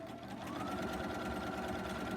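A sewing machine stitching pink spool thread over a bobbin thread runs steadily at a close, even pace, a continuous mechanical whir with a rapid needle beat and no voices.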